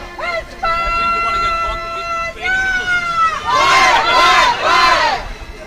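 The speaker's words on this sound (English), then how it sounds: "There you go, and that is Spain's cheer." Spanish team supporters at the European Field Championships team finals in Porec chanting and shouting a rhythmic cheer, loud crowd voices rising in sustained bursts with repeated whoops toward the end.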